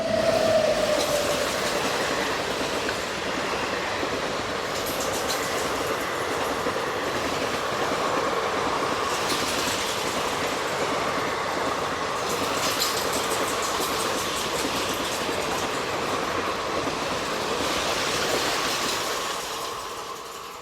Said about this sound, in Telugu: చూడండి ఫ్రెండ్స్, ఏదో ఎక్స్ప్రెస్ క్రాస్ చేస్తుందండి.